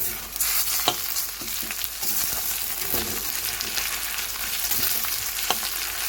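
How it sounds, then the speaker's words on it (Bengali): Ginger garlic paste fries in hot oil after onions, producing a steady loud hiss with occasional sharp pops and stirring scrapes, heard up close with no speech. "এরপর আদা রসুন বাটা দিয়ে দিলাম।"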